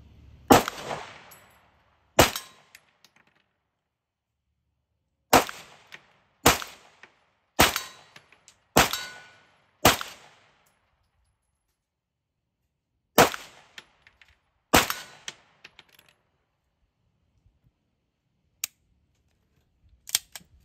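Springfield Armory Prodigy 4.25 pistol firing at a steel target, about eleven sharp shots in loose pairs and singles spread over twenty seconds, each a loud crack with quick ringing, near and alone with silence between.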